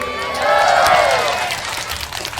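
Audience at an outdoor Islamic tabligh akbar gathering in Silau Laut, Asahan, claps and cheers in a broad swelling wash of applause that peaks then fades, mixed with crowd noise.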